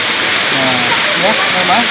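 Waterfall at Tapak Tuan in South Aceh, a constant hissing rush of falling water filling the air, with a person talking over it.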